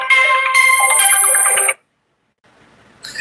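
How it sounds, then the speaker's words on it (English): A phone ringtone plays loud and continuous for about a second and a half, then cuts off into silence before a faint sound returns near the end. "I got a phone call"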